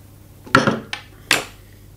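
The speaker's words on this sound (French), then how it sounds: "petite pièce dans ce sens et on l'enfonce au fond avec le tournevis plat et en appuyant" A flat screwdriver presses a small part into a Chiappa LA322 Kodiak Cub takedown .22 LR rifle, giving three short, close metallic clicks and clinks that are sharp and separate.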